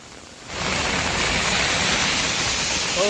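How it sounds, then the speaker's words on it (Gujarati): Dense, steady roar of a heavy monsoon downpour in Deesa, Gujarat, that swells in after a brief quieter moment and then pours on without a break. "અત્યારે જે ધોધમાર વરસાદ જે છે તે વરસી રહ્યો છે,"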